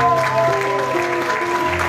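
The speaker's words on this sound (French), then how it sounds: "Vos acclamations déjà." A crowd at a book presentation during a fifteenth anniversary celebration applauds and cheers, a continuous wash of clapping mixed with sustained tonal voices or music running throughout.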